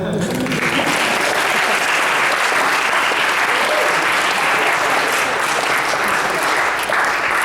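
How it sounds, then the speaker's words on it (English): A church congregation at a pastors' appreciation retreat claps for its pastors, loud and sustained dense applause filling the room evenly from start to finish with a murmur of voices mixed in. "You can clap."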